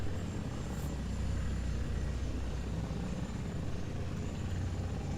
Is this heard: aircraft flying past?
yes